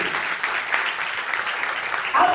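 A church congregation at a Friday healing meeting breaks into loud, dense applause, many hands clapping together in a sustained burst that swells near the end.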